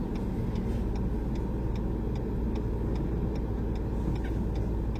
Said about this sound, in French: Clignotant voilà